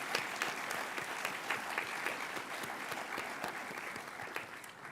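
Audience at a high school Year 9/10 awards ceremony claps in a steady, even round of applause, many hands blending into a continuous patter.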